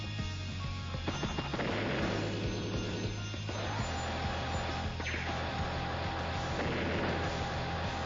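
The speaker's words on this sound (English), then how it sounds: "Tank artillery." Tank artillery fire in Advance Wars: Days of Ruin, heavy booming game shots over a steady looping soundtrack, repeated blasts that sit loud and dense in the mix.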